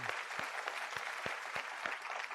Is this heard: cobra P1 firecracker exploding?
no